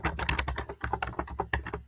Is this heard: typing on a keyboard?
yes